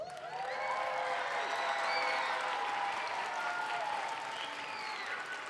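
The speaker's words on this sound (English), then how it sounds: "how about we give a big round of applause for our principal?" A school audience at a Lunar New Year celebration gives a sustained round of applause for the principal, dense clapping mixed with a few cheers and voices throughout.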